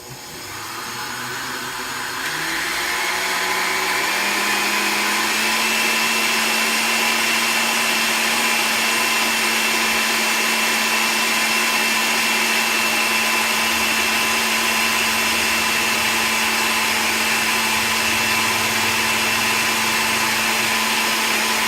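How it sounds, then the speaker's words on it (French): An electric blender mixes a batter with flour, its motor spinning up over the first few seconds and then whirring loud and steady in one continuous drone. "Alors nous allons commencer à le mixer pour avoir le mélange."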